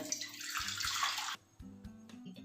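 Water drained from soaked lentils pours out in a steady splashing stream for about a second, then stops, leaving a few faint drips and clinks.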